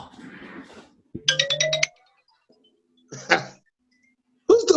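A mobile phone ringtone plays in short bursts of bright chiming tones separated by silences, fairly close and loud, with a brief murmur of voices at the start.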